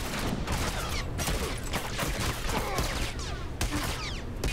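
Gunfire from The Last of Us Factions multiplayer, a video game, rattles in dense repeated bursts and single shots throughout, with distant-sounding crackles layered over a steady game background.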